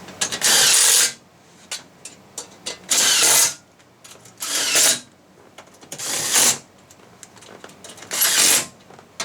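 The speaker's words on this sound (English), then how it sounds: "Now with this one I want to use my impact, because these, you have to torque them down pretty good." An impact wrench torquing down fasteners during a car interior job, with loud close bursts of rapid hammering rattle, about five runs of roughly a second each, separated by quieter handling gaps and no speech.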